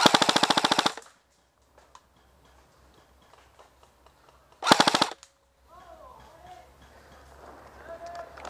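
Airsoft guns fire rapid full-auto bursts during an outdoor airsoft game, one loud burst at the start and another near the middle, with quieter shuffling and distant voices in between.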